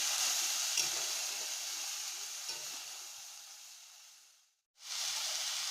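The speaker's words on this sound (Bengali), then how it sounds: "এবার আমরা এই বাঁধাকপিটা ভালো করে মশলার সঙ্গে কষিয়ে নেব।" Shredded cabbage frying with spices in a pan gives a steady close sizzle and hiss with light stirring, fading briefly to silence before the sizzle returns.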